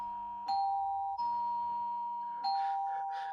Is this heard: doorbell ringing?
yes